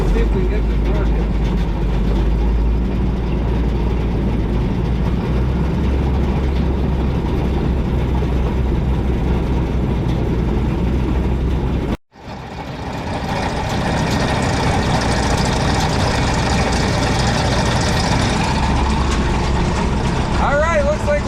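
Allis Chalmers Gleaner G combine engine idling loud and near, cutting off sharply midway then picking back up, a steady rumbling drone with people talking over it.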